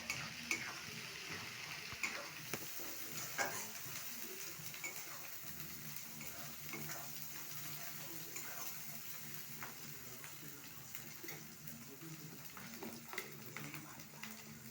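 Spices sizzle in hot oil while being stirred for a masoor dal tarka, a steady soft frying hiss broken by scraping and ticking stirs, fairly quiet and close, with no talk over it.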